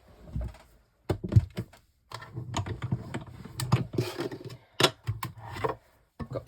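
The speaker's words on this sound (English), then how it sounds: "So I'm going to die cut that one out." A die cutting machine feeds a card through for a stepper card, heard close up as a run of rapid clicky, crackly ratcheting bursts broken by brief pauses, with no speech.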